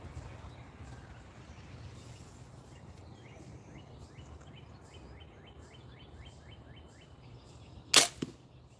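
An arrow released from a Diamond Edge 320 compound bow at dusk outdoors gives a sharp, loud snap and thump near the end, after a long stretch of quiet ambience with faint birds chirping.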